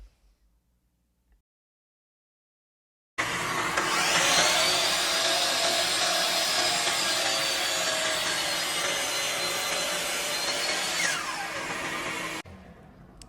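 Shop vacuum roars steadily for about nine seconds, cleaning up sawdust from cutting roughly 170-year-old barn wood, starting abruptly after near-silence and cutting off just as sharply, loud and close.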